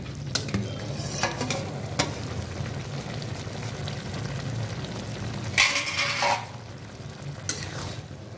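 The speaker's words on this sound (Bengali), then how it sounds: "ভালো করে নেড়ে নেব।" A spoon scrapes and stirs bottle gourd curry in a pan over steady sizzling, with a few louder metallic scrapes and clanks against the pan partway through, and no voices.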